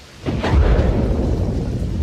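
Heavy rain pours down steadily while a deep rumble of thunder swells in and rolls on, loud and continuous with no pause.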